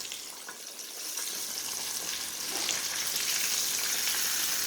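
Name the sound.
sea mullet fish frying in hot grease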